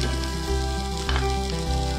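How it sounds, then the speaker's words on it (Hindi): Sliced onion frying in oil in a pan with browned garlic and green chilli, a steady loud close sizzle with a few stirring scrapes, no talking. "अनियन डालने के बाद मैं 2-3 मिनट इसको फ्राई करूंगी"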